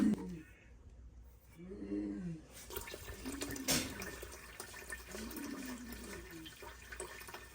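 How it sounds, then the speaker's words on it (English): Water runs into a pressure canner pot during home canning of sliced yellow squash, a steady rushing pour with a brief louder splash midway, while a voice speaks in low tones underneath. "Let's put some more water in there."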